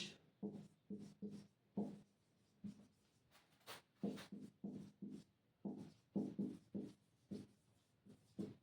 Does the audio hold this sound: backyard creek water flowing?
no